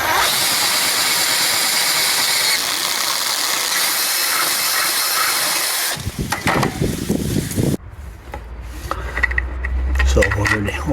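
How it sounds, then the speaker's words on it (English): A power tool drills through a metal bracket for a lounge seat backrest, giving a steady high rasping whine for about six seconds that then breaks into shorter uneven bursts and handling noise. "So I'm just re-drilling the bracket for the lounge seat backrest."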